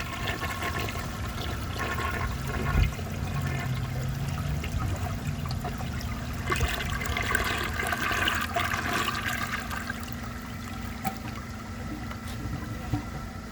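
A 1948 Crane Drexel toilet flushes in one continuous rush of swirling, gurgling water that holds steady close to the microphone, with a trickle and faint rumble through the drain.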